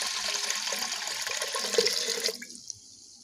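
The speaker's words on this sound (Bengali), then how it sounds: "ডালটা ধুয়ে নিয়েছি ধুয়ে নিয়ে এতে জল দিয়ে দিলাম" Water poured onto washed urad dal in a cooking pot, a steady close rush of liquid for about two and a half seconds that stops abruptly, leaving a few faint drips.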